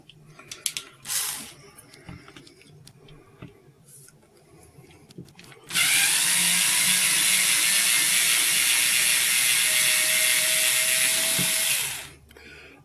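After a few scattered clicks and knocks, a small drill driver removing screws whirs loudly and steadily for about six seconds, then winds down and stops.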